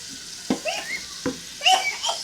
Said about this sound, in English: So in here we'll be adding in our oil, guys